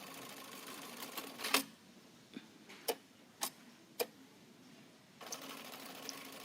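Short bursts of a sewing machine tacking bar tacks on a suspender attachment come as a few sharp mechanical clatters spaced apart over a quiet background, then a longer run of stitching at the end.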